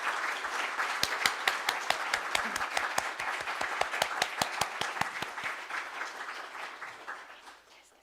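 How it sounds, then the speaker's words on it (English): A crowd at a Sunday church service applauds graduates, with a few sharp, loud claps standing out near the microphone, gradually fading away toward the end. "give a round of applause to all of our amazing graduates"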